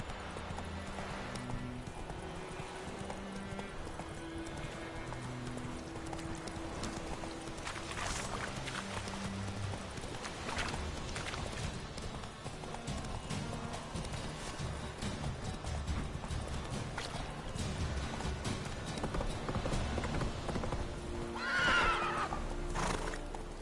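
Roach the horse gallops in The Witcher 3 with quick, rhythmic hoofbeats, the steady clip-clop carrying on throughout, joined by a whinny and a brief swell of game sound near the end.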